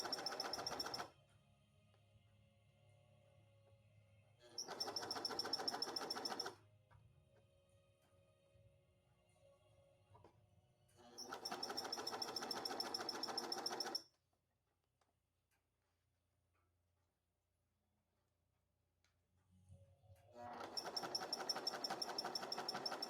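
A sewing machine stitches neon ripstop nylon in four separate bursts of steady rapid clatter, separated by quiet pauses with a faint background hum.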